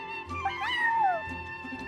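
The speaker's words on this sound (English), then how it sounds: "that's my neighbor's cat" Charcoal the cat meows in Genshin Impact, a single drawn-out, rising-then-falling meow close up over faint background music.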